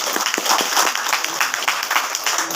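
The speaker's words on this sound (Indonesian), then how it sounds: "Tepuk tangan untuk mereka dulu." A crowd claps at a village verification event, a brief burst of dense applause heard nearby with a faint voice underneath.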